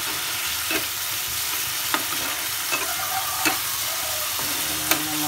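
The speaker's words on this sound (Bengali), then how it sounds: "আমার মশলাটা আমি ভালোভাবে কষা নিচ্ছি" Spice masala with fish maw frying in a pan under a steady sizzle, with a spoon scraping and stirring in sharp clicks about once a second.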